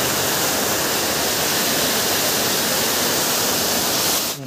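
A waterfall inside the Garden of Caves in Meghalaya roars in a dense, constant, loud rush of falling water, close by and without pause, ending abruptly with no voices heard.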